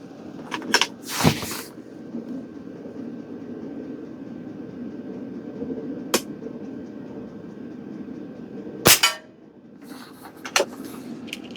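A Pinty Nightfall .22 regulated air rifle fires several sharp, sudden shots spaced irregularly apart, each a crisp crack over a quiet, low background hum.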